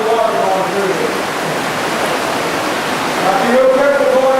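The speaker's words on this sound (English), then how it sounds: "So we've got a lot of water going through here." Swollen mountain stream in winter near Pigeon Forge, running several times its normal flow, gives a steady, loud broadband rush of water with no letup, and faint voices sit low beneath it.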